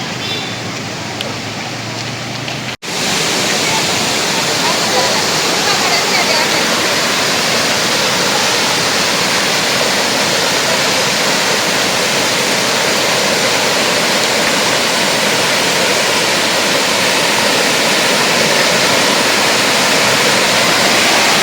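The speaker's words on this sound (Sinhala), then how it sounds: "Atiniwala waterfalls in Sri Lanka." Atiniwala waterfall in Mandaramnuwara, Sri Lanka, roaring as a loud, steady broadband rush of falling water. A short quieter stretch comes first, then the full, unbroken roar continues close by with no talking.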